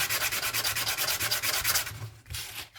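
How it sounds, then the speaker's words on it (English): Sandpaper rubbing back and forth on a metal coin ring made from a Death Star II coin, steady rhythmic close scraping strokes with a brief pause near the end, no talk. "Sandpaper."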